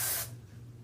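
A short, close burst of hairspray hissing onto a braid for about a quarter second, then cutting off to a low background hum.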